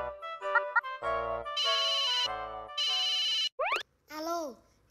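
Telephone ringing for an incoming call in a Vietnamese primary-school lesson on using the phone: a tonal ringtone melody plays in repeated bursts, fairly close and clear, ending with a couple of rising electronic chirps, no talking.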